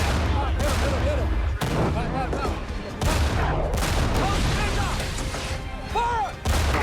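Tank gun firing in the war film Fury, with heavy booming shots and rattling gunfire amid battle noise, while voices shout orders over the continuous din.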